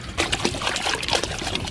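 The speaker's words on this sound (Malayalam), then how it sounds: "കുറച്ച് ചുടുവെള്ളം കാച്ചാണ്ടതിൽ ഒഴിച്ചോളെ." Hot water trickles and splashes into a cooking pot in a steady, close pour, with small irregular bursts of dribbling through the short stretch.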